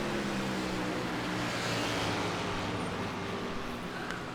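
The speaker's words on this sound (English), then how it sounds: "That car does sound good." A race car engine at Spa in iRacing drones steadily at high revs, a continuous loud broadband roar with no breaks.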